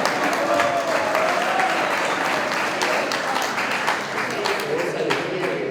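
A crowd applauds a graduating student at a motorcycle and vehicle mechanics graduation ceremony, a dense, even wash of clapping that holds steady throughout with a voice faintly under it.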